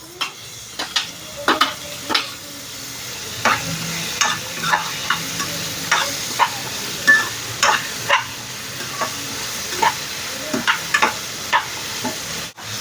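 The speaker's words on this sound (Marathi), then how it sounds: "बटाट पण चांगला परतून झालेला आहे. आता त्यामध्ये टोमॅटो घालून घ्यायचा." Onion, potato and tomato sautéing in a pan in a home kitchen, with a continuous sizzle broken by a long series of sharp spatula scrapes and taps against the pan, close and fairly loud, no voices.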